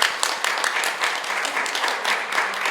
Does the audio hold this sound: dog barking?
no